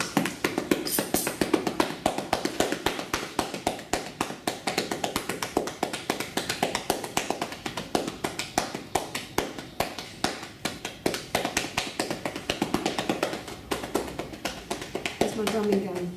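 Cupped palms strike in a fast, continuous stream of hollow percussive slaps through the whole stretch, close and busy, with a voice talking underneath.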